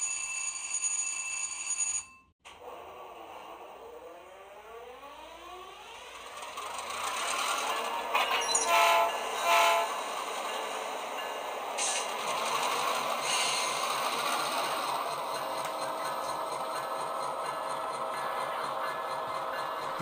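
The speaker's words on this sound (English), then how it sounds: "locomotive will shove its train forward until the freight car is on the spur." A small DCC-EX model locomotive whirs steadily with faint clicking and rattling along the track after a short pause near the start, shoving a freight car onto a spur.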